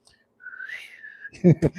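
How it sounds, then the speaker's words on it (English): A Navy whistle gives one rising, wavering tone that holds for about a second, and then a voice speaks briefly. "I need the Navy whistle."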